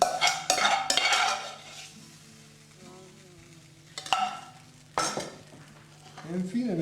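Pappardelle pasta being plated, with close clattering of utensils against pan and dish in short bursts, quiet stirring between them and scraping toward the end.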